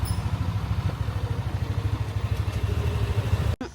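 A scooter rides through Bali, its small engine puttering in a steady close drone with road rumble and clatter, cutting off abruptly near the end.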